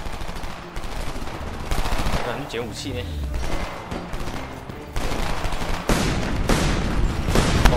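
Gunshots crack through a Homefront firefight, irregular bursts of automatic fire mixed with heavier booms and scattered single shots, with voices talking over the clatter.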